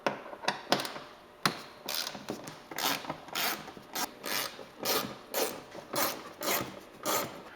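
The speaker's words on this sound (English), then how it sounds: "The next step is to remove the four T30 bolts across the top of the bumper cover." Ratcheting clicks from a T30 driver loosening bolts along the top of a Porsche 911 bumper cover, in short rapid bursts repeating about a dozen times, close and crisp.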